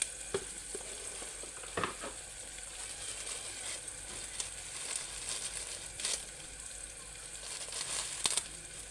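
Bay leaves frying in hot oil for a Telangana-style mutton curry, a steady close sizzle with occasional sharper pops and stirring clinks, no talking.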